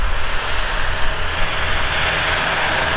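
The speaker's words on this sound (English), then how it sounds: "there's a tractor coming, and it's incredibly noisy" A very noisy tractor engine on a rural horse property roars steadily and loudly, a broad, constant rumble as it passes close by.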